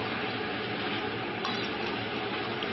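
Potato pieces fry in oil in a pan while being stirred, giving a continuous dense sizzle with faint scrapes of the spoon, loud and close, with no talking.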